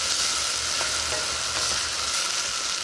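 Chickpeas and potato chunks brown in a hot pan for a rustic lentil soup, with a loud, continuous sizzle and faint stirring scrapes throughout.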